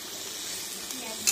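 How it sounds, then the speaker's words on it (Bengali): Onions frying slowly in hot oil over a low flame for chicken biryani, giving a steady, close sizzle with light stirring and one brief clink near the end. "এবার পেঁয়াজটাকে লাল করে ভেজে নেব ধীরে ধীরে"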